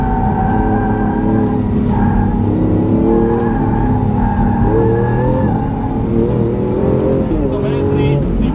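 A Lamborghini Aventador driven fast, a loud onboard engine roar with rising and falling revs and tire noise, while someone talks over it.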